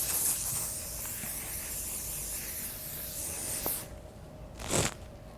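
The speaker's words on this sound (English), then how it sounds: "Let me just have a little final spritz." Hairspray misted over freshly styled hair in a salon, a long steady hiss for several seconds, then a brief second short spray burst after a pause.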